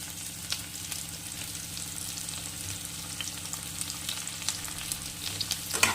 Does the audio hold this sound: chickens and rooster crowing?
no